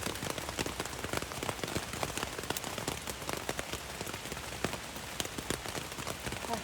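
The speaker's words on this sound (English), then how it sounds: "It's like pouring rain." Pouring rain from a sudden thunderstorm on the Appalachian Trail near the New Jersey–New York border, a steady dense hiss with scattered sharper drops striking nearby surfaces, continuous throughout with no voices.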